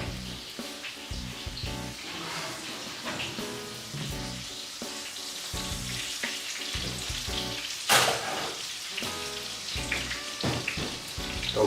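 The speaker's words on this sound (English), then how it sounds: "Even my buns sizzle." Burger buns crackle and pop in a well-warmed pan while Juicy Lucy burgers are cooked, a close, continuous sizzle with irregular spatters and no voices.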